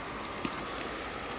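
Rain pours onto a moving vehicle on an Ohio road, a steady hissing wash with a few sharp drop ticks and clicks scattered over it.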